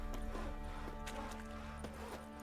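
Horse hooves clip-clop in quick, regular steps in the video game The Witcher 3, close and clear over a faint ambient bed.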